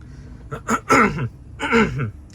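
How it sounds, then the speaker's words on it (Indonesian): A few short, breathy coughs up close, in two quick clusters separated by a brief pause. "maaf ya agak batuk dikit"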